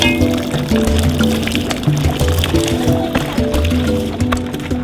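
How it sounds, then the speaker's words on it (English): Hot water is poured into a pot of goat meat and vegetables with garlic, dill and parsley for Emirati machboos, a loud close filling gurgle with rising tonal pitch and splashing, steady for several seconds. "now we're adding a little bit of hot water, and we're gonna boil this down for a little bit"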